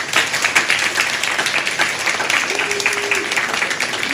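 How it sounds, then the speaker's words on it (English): Crowd at the Coo Shed music venue in Ayr cheering and clapping for the staff, a loud, dense, sustained wash of applause with no voices over it. "Give them a wonderful cheer, please."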